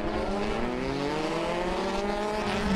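Race cars from the 2019 G Series ice racing round battle side by side on an icy track, their engines giving a loud, steady high-revving drone with pitch climbing slowly under acceleration.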